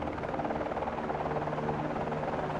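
A helicopter in the X-Plane 11 flight simulator game drones steadily with a dense, continuous rotor and engine roar, constant and fairly loud with no talk.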